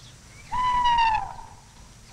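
A single owl gives one drawn-out, steady hoot that swells and then fades over about a second, fairly near against quiet background hiss.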